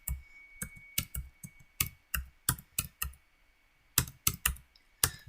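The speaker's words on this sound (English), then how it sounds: "So I'm just going to type a bunch of those in with a black cell in the middle." Numbers are typed on a computer keyboard at close range, sharp individual keystrokes in quick bursts with short pauses between groups, over a faint steady hum.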